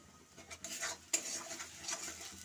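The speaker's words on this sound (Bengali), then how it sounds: "ভালো করে এটাকে আমি তেল দিয়ে কষাতে থাকবো" A paste of ginger, garlic, onion and tomato fries in oil in a kadai, stirred with quiet scraping strokes over a faint sizzle.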